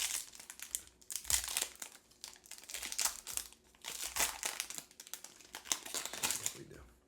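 Several 2025 Panini sports trading card packs (Mosaic, Donruss and Absolute) are torn open up close, with repeated bursts of crinkling, ripping foil wrapper.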